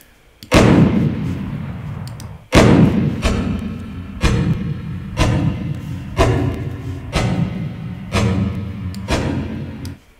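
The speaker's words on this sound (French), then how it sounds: "je vais jouer mon son d'explosion et je vais le freezer" A looped explosion sound effect plays inside an audio plugin, giving deep booming blasts with decaying tails. Two loud hits come about two seconds apart, then softer repeats follow at a steady one-second rhythm.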